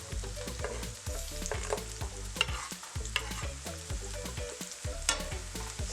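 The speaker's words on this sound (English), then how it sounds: "Saute this up." Peppers sauté in a hot pan with a steady sizzle, while a utensil stirs and scrapes in repeated strokes, close and clear, with no talking.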